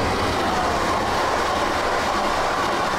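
Train rolling along railway tracks in a Pennywise clown horror video game at night, a steady loud rumble with faint clickety-clack that fills the whole moment, no voices.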